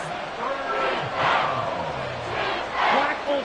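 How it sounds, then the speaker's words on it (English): A stadium crowd in a Madden football video game roars in a dense, steady wall of noise, swelling louder in two broad surges with shouting voices rising out of the din throughout. "This crowd turning up the decibel level"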